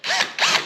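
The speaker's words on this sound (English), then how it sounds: "I like to pre-drill these holes" A power drill pre-drills holes in very thin drawer wood with a long bit while Blum or Richelieu drawer slides are being fitted, giving two close, loud whirring bursts with a brief dip between.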